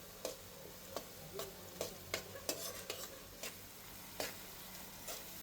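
Onion frying in a pan for mutton curry, a soft steady sizzle punctuated by sharp clicks and scrapes of a spoon stirring every second or so, quiet and close.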